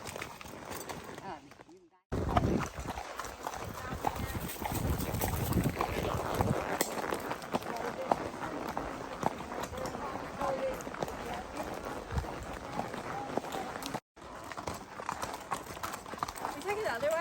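Horse hooves clop along a rocky Ozark mountain trail at a walking pace, steady and close, mixed with rustling, wind and a rider talking.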